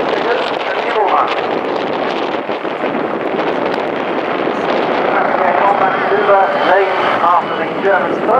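An MBB Bo 105 helicopter flies aerobatic figures at an airshow, its rotor and engine drone loud and steady, with wind buffeting the microphone throughout.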